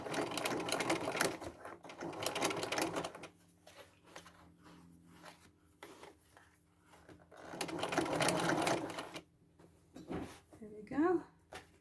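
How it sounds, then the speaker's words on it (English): Sewing machine stitching leather for an upcycled bag, running in two bursts of steady rapid whirring separated by quieter handling clicks and rustles, close and fairly quiet, with a short voice near the end. "Stitch my leather bit now."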